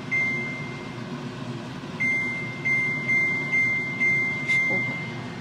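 An oven-type air fryer beeps as it is set, a clear single tone at first, then a steady run of about six evenly spaced beeps against a low hum of kitchen background, with no talk.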